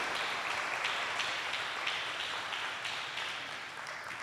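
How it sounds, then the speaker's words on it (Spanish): A church congregation applauding, a dense even wash of clapping from many hands that holds steady and slowly fades slightly over a few seconds. "Dale un fuerte aplauso a Dios por eso."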